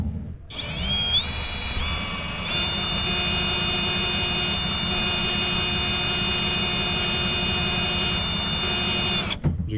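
WRD Spider4 reloader winding trimmer line onto a spool: a steady, loud motorized whine with tonal hum runs continuously for about nine seconds, starting and stopping abruptly, close up and without talk.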